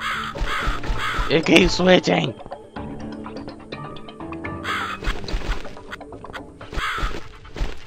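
Crow caws from the dark horror adventure game The Cat Lady, harsh calls rising over game music and ambience, with someone talking over much of the scene.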